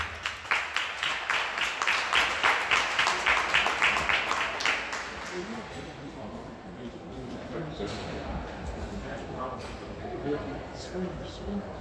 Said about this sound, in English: can we give a big old round of applause for the legendary Mr.